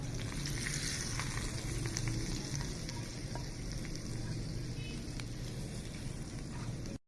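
Tempering (baghar) for traditional saag sizzles steadily in hot oil, a dense, continuous crackle that stays loud and even for several seconds before cutting off abruptly.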